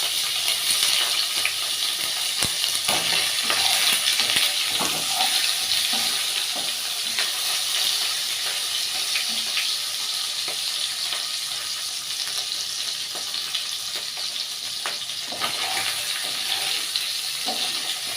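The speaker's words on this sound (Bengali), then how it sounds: "পনিরগুলোকে সবাই আগে আমরা একটু ভেজে নেব" Paneer pieces fry in a pan with a continuous loud sizzle, punctuated by scattered ticks and scrapes of stirring, close and steady throughout with no talking.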